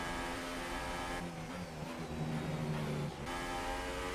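A Toro Rosso Formula 1 car's engine screams at high revs in F1 2018 during a race in Bahrain, a steady, loud whine with a brief pitch dip mid-run before rising again.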